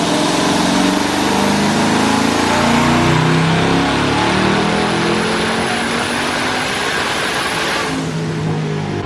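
A twin-turbo Camaro ZL1 with a newly built 10-speed automatic roars steadily at full power while held in 7th gear, a loud, sustained engine drone with turbo whine that eases slightly near the end, with no voices.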